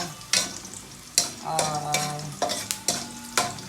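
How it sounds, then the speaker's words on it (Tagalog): Garlic sautéing in a hot pan while Chicken Afritada is cooked, a steady close sizzle with several sharp stirring scrapes and clinks at intervals, no voices. "Yan, isusutin muna natin yung bawang"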